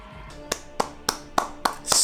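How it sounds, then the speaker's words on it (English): Slow handclaps from a lone person at close range during a book review: about six sharp, separate claps at an even, unhurried pace, with a brief burst of noise at the end. "Take a moment and give this man, Evan Winter, a round of applause."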